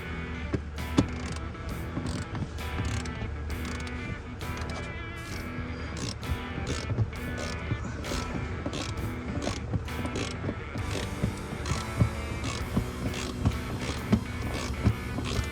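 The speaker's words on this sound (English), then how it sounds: "So we're going to torque these to 35 foot-pounds." Mechanical ratcheting and clicking as bolts on a Jeep are tightened with a torque wrench, a steady run of sharp ticks over a low hum that continues through the whole stretch, with no talk.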